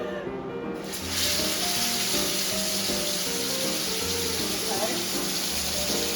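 Steaks sizzling in a pan in a cooking competition kitchen, a loud steady hiss that swells up after a quieter start and holds under background music.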